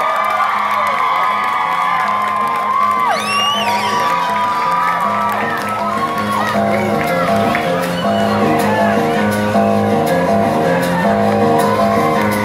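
A large crowd gathered for a cheerleading performance at Knott's Berry Farm cheers, shouts and whoops continuously and loudly, with excited voices rising over a dense festive background.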